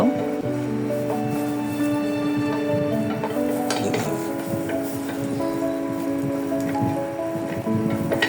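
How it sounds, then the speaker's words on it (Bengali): Butter crackles and sizzles steadily in a frying pan as halved burger buns toast, with occasional clinks of utensils against the pan and no talking over the close, continuous hiss. "বাটারটা এভাবে দিয়ে এই বনগুলো যদি একটু ভেজে উল্টায় পাল্টায় নেওয়া যায়"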